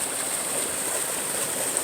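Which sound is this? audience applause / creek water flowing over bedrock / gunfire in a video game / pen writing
creek water flowing over bedrock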